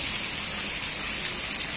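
Steady rain pouring down at a roadside fishing spot beside the STA 15 Semarang–Demak toll road, a dense, even hiss of falling water with no gaps, fairly loud and alone without any talking.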